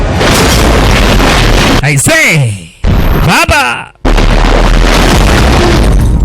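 A car explodes in the action film Shadow War, dubbed into Swahili: loud, dense roaring blasts fill the opening and closing seconds, with a brief stretch of voices between them.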